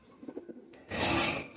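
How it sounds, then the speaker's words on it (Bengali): A male Kaldam pigeon with seven-eye markings coos in a few soft, low pulses, followed by a longer burst of louder broadband rustling, close by with no talk. "এটা হচ্ছে নর কবুতর"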